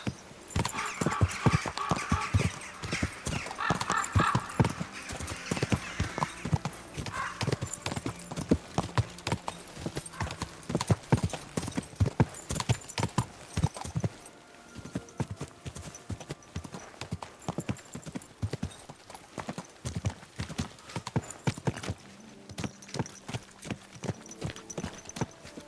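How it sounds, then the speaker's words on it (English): Horse hooves clip-clop steadily and close at hand for the whole stretch in the medieval video game Kingdom Come Deliverance 2, a rhythmic run of sharp thuds with occasional faint snorting and brief talk. "Easy, good horse."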